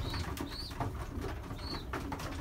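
Pigeons in a loft coo softly and steadily against a busy background of rustling and shuffling, with a few higher calls rising and falling at intervals.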